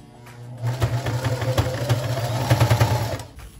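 A sewing machine stitches a fabric seam with a short backstitch at the start and end, a close, steady rapid mechanical whir and chatter lasting about three seconds before stopping.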